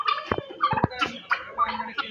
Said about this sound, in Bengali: কি সুন্দর দেখছেন তিতির বাচ্চা তিতি মুরগি এবং টার্কি মুরগি